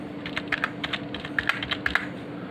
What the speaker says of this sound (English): now here you have to type text whatever you want